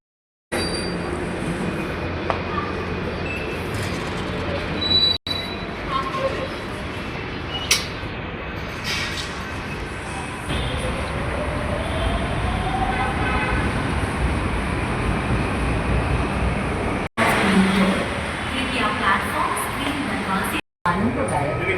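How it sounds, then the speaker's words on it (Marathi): Rumbling ride inside a Mumbai metro train, a continuous low mechanical drone with rising and falling tones and occasional rattles and clicks. "मी ज्या मेट्रोमधनं प्रवास करतो म्हणजे ज्या मेट्रोमधनं घरी जातो"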